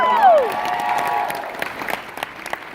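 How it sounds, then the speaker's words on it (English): An audience applauds, scattered hand claps and a faint crowd murmur filling the room after a brief falling tone at the start. "Let's give them a big round of applause as"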